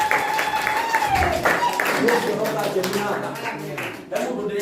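A church congregation claps during a prayer service, the applause running steadily beneath a voice and tonal sounds at close range.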